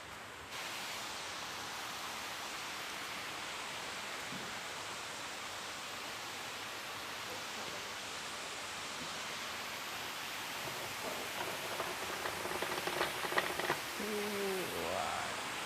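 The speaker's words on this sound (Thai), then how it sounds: "นี่เสียงน้ำตกมาแต่ไกลเลยเนาะท่านผู้ชม" A waterfall at Tham Nang Aen cave near Thakhek in Khammouane, Laos, heard from a distance as a steady, hissing roar that holds evenly throughout, with faint rustling and a few brief sounds near the end.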